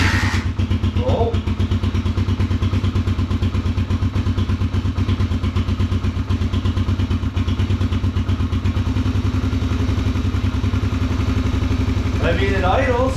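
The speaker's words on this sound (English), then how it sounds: "I mean, it idles." A 2021 Suzuki DRZ 125 dirt bike runs at a steady, loud, close idle after a carburetor swap, its single-cylinder engine thumping rhythmically throughout as a person talks over it.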